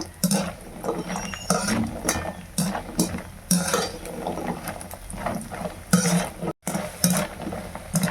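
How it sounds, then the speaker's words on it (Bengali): Lentil dumplings (bori) frying in hot oil in a wok in a village kitchen, with steady crackling sizzle and repeated scraping and stirring clatter of a utensil against the pan, close and fairly loud, no talk. "তেলটা গরম হয়ে গেছে আমি বড়িগুলো ভেজে নিচ্ছি"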